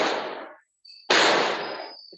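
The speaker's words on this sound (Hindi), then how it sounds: "पटाखे कहाँ चल रहे हैं?" Firecrackers go off outside during a class, with two loud sharp bursts about a second apart. Each burst trails into a decaying crackling rumble, and a thin whistling tone sits between them.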